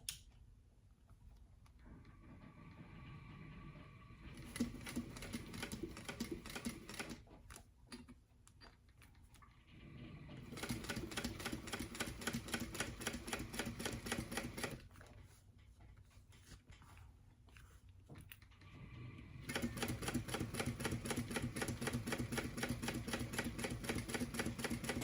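A sewing machine stitches a convertible tote bag in bursts of rapid, rhythmic ticking, running in several spells separated by quieter pauses and soft handling noises, with no talk.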